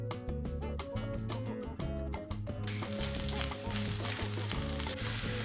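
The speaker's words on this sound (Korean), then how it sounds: "프라이팬에 식용유 1테이블스푼을 넣고 양배추를 살짝 볶아줍니다." Diced cabbage stir-frying lightly in a tablespoon of cooking oil in a frying pan, a broadband sizzle rising about halfway through beneath loud, steady background music.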